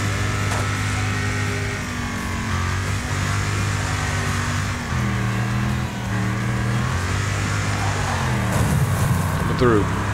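A car engine in the Wreckfest racing game revs and shifts gears continuously, holding a loud droning pitch that dips and climbs through each change.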